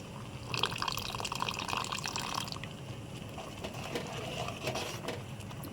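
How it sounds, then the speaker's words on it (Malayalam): First-press coconut milk poured into jaggery vermicelli payasam, a soft liquid trickle and splashing for a couple of seconds, then quieter drips and stirring, close and faint. "ഇനി ഇതിലോട്ട് ഒന്നാം പാല് ചേർക്കാവേ"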